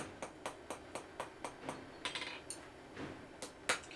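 A hammer strikes copper on an anvil in quick, evenly spaced metallic taps, a dozen or more ringing blows that turn slightly irregular toward the end, close and fairly quiet, with no talk.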